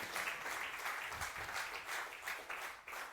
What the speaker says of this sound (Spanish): denle fuerte palmas al Señor